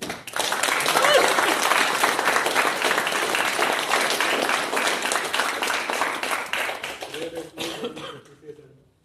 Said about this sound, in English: Please give her a round of applause once again.